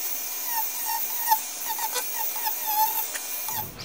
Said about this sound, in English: I have replaced my stick and sandpaper solution with yet another use of the Dremel.